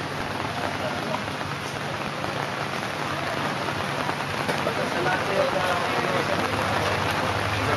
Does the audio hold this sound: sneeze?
no